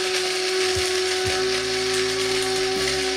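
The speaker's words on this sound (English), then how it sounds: "There's no substitute for freshly ground black pepper." Black peppercorns are ground in an electric grinder for a barbecue rub, a steady high whirring buzz with a motor pitch that shifts and drops as it works, close and continuous.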